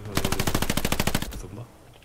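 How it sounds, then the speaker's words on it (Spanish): Rapid automatic gunfire in the World War II video game Hell Let Loose, a loud, close burst of evenly spaced shots lasting about a second and a half before cutting off and fading. "Está disparando a las paredes para ver si."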